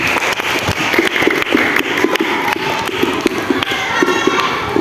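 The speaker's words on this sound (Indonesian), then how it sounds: "Tepuk tangan dulu untuk kalian semuanya." A group of students claps together during an outdoor school physical education lesson on passing drills, a dense, steady patter of many hands with sharper individual claps standing out, fairly close and continuous throughout.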